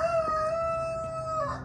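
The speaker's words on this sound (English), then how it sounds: "there's a rooster in the background." A rooster crows once in the background, a clear drawn-out call lasting over a second against low ambient noise.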